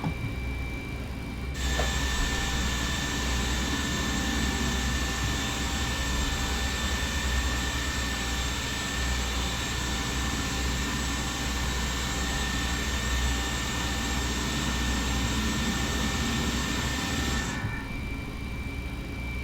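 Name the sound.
Boeing 737-400 jet engine 1 starting up, flight simulator video game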